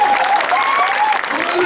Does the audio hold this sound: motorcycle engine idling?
no